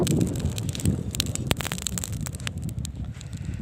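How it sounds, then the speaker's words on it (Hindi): Strong wind blowing across an open outdoor spot in a Kashmir village where charcoal burns for cooking beef seekh kebabs, a continuous rushing roar with scattered sharp crackles and rustles. "हवा इतनी तेज़ है"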